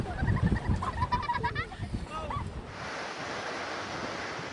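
Storm Ciara surf and gusting wind roar as a steady broadband wash on the UK coast, with people talking and calling out over it at first before the sea noise continues alone.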